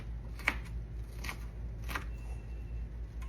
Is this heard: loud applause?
no